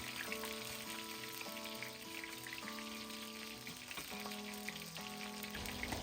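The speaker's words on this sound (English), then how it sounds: "You'll hear the beautiful sizzle right away." Three brushed lemongrass stalks fry in hot oil, giving a steady, close sizzle that carries on without a break beneath soft sustained background music.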